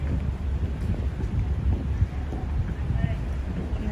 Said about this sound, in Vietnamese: Gió rất lạnh quá rồi luôn.